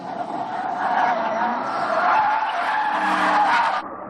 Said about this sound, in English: beautiful little drift as the car just seems to absorb the bumps mid-drift